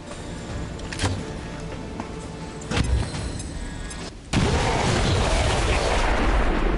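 An explosive goes off during an XCOM 2 battle, with sharp blasts and a heavy boom followed by loud sustained rumble and combat noise.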